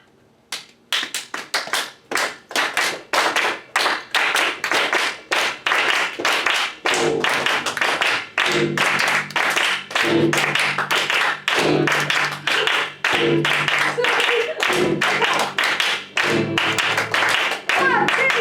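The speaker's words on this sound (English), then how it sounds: "Ready to clap." A group claps hands together in a steady rhythm during a storytelling performance, dense sharp claps continuing throughout with some musical tones and voices underneath.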